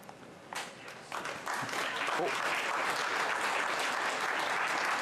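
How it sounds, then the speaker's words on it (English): Audience applause at a city council meeting swells after a brief pause, growing into sustained, dense clapping from a sizeable crowd that continues steadily to the end. "There really isn't supposed to be any clapping from the audience."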